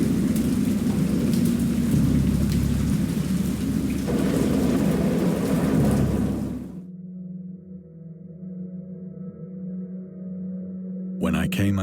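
Heavy rain and rolling thunder fill a storm scene in the video game Dagon, a dense roar that cuts off abruptly, leaving a low hum under a quiet voice.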